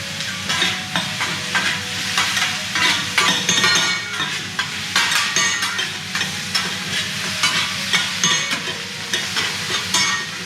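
Vegetables frying on a teppanyaki griddle with garlic, soy sauce and oyster sauce, a steady close sizzle broken by constant spatula stirring and scraping, with no talk.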